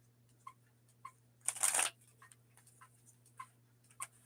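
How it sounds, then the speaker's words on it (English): A deck of tarot cards is shuffled in one quick, crisp riffling burst, surrounded by faint, evenly spaced light ticks and a steady low hum in a quiet room. "So I'm shuffling and I'm picking up the cards"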